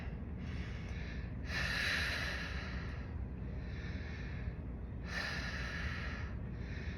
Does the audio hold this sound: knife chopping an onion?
no